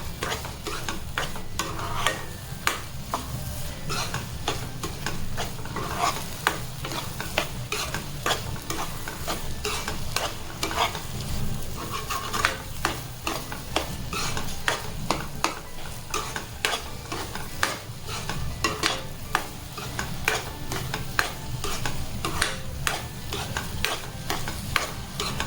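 Scrambled egg and mutton brain sizzle steadily in a pan while a utensil stirs and scrapes through the mixture in quick, repeated strokes, close and fairly quiet, with no talking.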